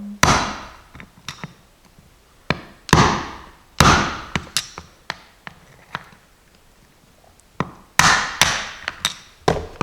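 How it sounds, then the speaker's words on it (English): A metal punch is hammered to drive an old bearing out of a snowmobile idler (bogie) wheel, giving loud, sharp knocks in uneven clusters of blows with short pauses between them and no talking. "I'm just going to take a screwdriver or any sort of punch and pound it out"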